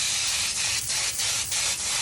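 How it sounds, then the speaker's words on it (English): Cleaner spraying onto a dishwasher's top housing during a repair: a steady broadband hiss with several short pulsed bursts from repeated trigger pulls, close and loud, with no talk. "now I'm gonna get into this little top housing here and spray it clean too"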